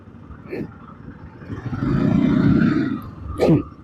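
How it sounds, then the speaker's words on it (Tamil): Heavy road traffic heard from a Royal Enfield Guerrilla 450, a swelling rumble of engines and vehicles passing close by, peaking mid-clip, with a voice and a short burst of speech near the start and end. "செம்ம டிராஃபிக்கு. வண்டி இன்ச்சா கூட மூவ் ஆகலையே."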